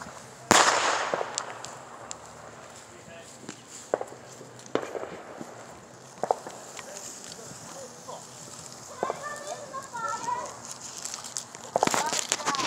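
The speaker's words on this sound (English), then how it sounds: "Can I throw firecrackers in the fire?" Sharp firecracker pops go off one at a time, some loud and some farther off, while people talk in the background, on the Fourth of July near a fire.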